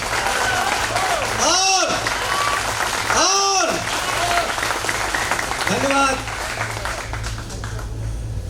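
An audience in a meeting hall applauds steadily while someone speaks briefly over it through a microphone, his voice rising above the continuous clapping.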